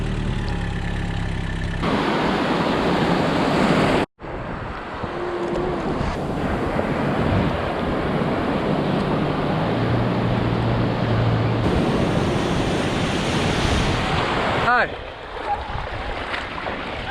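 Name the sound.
ocean waves breaking at Boat Harbour, Kurnell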